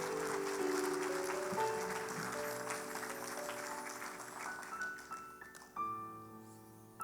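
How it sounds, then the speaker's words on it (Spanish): A church congregation applauds over sustained keyboard chords, the clapping strongest at first and then thinning as the music carries on. "Dale un fuerte aplauso a Dios."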